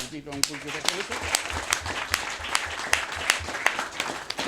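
An audience applauds, a steady patter of many hands clapping in rapid, even rhythm with sharper individual claps standing out, and a voice briefly heard at the start.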